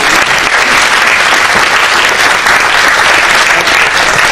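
Loud, dense applause from a lecture audience fills the room steadily from start to finish, with no speech on top.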